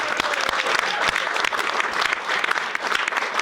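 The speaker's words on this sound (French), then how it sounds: "C'est Stella Kanga, on peut l'applaudir." Dense, loud audience applause at a festive evening bistro gathering, close and continuous clapping from a crowd welcoming a guest, steady throughout with no break.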